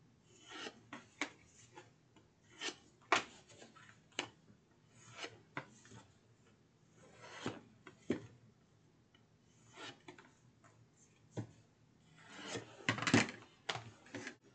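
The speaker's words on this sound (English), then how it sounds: "now I'm going to take my big old spatula and go around the ends" A large spatula is scraped around the edges of a paper book cover, giving quiet, intermittent rubbing and rasping strokes with scattered light taps, close by, with no voices.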